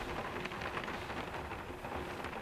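Steady, dense patter of heavy rain drumming on a cabin roof during a storm, loud and continuous with no voices.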